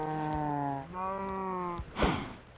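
Cows in Minecraft mooing in a video game, two drawn-out low moos close by, the second ending in a short rustle, with faint game ambience around them.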